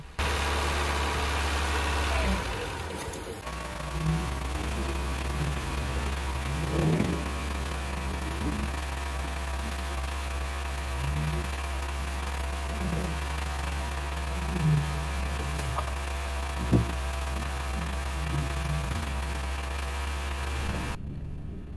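An engine idles steadily at about 2000 rpm, run without oxyhydrogen during a 60V hydrogen generator test, a constant low drone and hum holding for about twenty seconds before stopping abruptly near the end.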